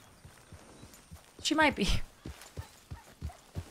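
Hooves clop at a slow, steady walking pace in Red Dead Redemption 2, faint and even, with a brief horse whinny and a short spoken phrase partway through.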